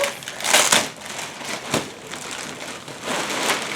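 Plastic wrapping on an orthopedic gel memory foam dog bed crinkles and crunches as it is cut open, with several louder bursts of rustling and a sharp snap near the middle, close by and with no talk.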